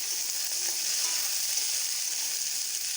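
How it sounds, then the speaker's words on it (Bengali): Peas and nuts fry in a pan for spicy pasta, giving a constant bright, close sizzle with faint stirring throughout. "এরপর দিয়ে দেবো মটরশুঁটিগুলো দিয়েও কিন্তু ভালো করে এভাবে নেড়ে চেড়ে ভেজে নিতে হবে।"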